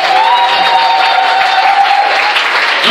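A church congregation breaks into dense, sustained applause with some cheering, loud and close, filling the whole moment without any talk over it.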